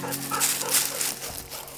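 A pointer dog whimpers softly while retrieving a shot quail on a Georgia hunt, a faint whine under steady outdoor background noise.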